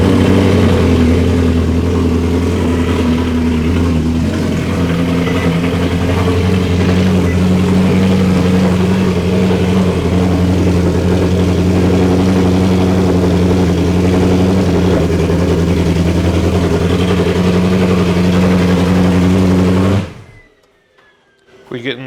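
A Ferrari 458 engine runs after a DIY intake manifold install, idling loud and steady with a deep humming drone close by for about twenty seconds, then shuts off abruptly into near silence.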